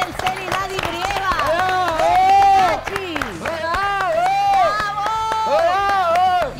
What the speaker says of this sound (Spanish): Aplaudan desde ahora hasta que termine.